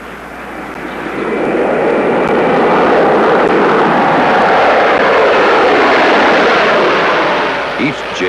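A departing jet airplane roars past at National Airport, its broad engine noise swelling loudly then fading slightly, steady and powerful throughout.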